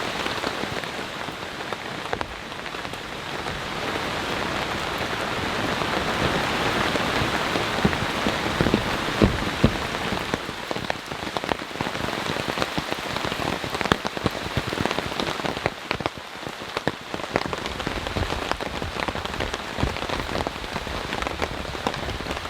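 Steady, heavy rain drums on surfaces during a storm at a campsite in Japan, a dense continuous hiss with close patter that stays loud and unbroken throughout, no voices present.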